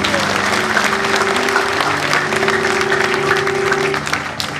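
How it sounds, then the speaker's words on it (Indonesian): A church congregation claps loudly and continuously in a large hall, with a sustained organ-like musical tone underneath and voices mixed in, fading slightly at the end. "Tepuk tangan bagi Allah kita."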